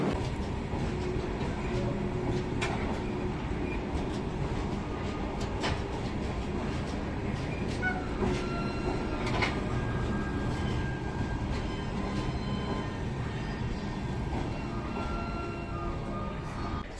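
A Mysuru Shatabdi Express train running on the Chennai to Bengaluru route, heard as a steady, loud rumble of the wheels on the rails, with rattling and faint clicks of the carriage throughout.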